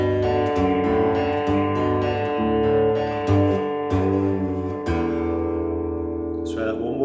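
Electric guitar plays an intro riff, rhythmic picked notes and chord stabs ending on an open E, close and fairly loud with no talking.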